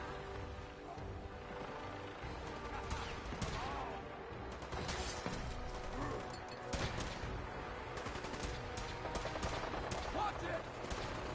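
Rapid bursts of gunfire crackle through a Fallout 4 firefight, dense and continuous with sharp shots punctuating a noisy battle, while a voice talks over the action.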